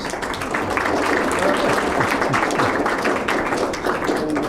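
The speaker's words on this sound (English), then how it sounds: "So can we have a round of applause?" A steady wash of clapping from a lecture audience, dense and continuous for several seconds with no pauses.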